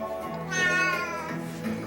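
Horace the cat gives one drawn-out, tonal meow close by, rising then falling, with a brief higher squeak at the end.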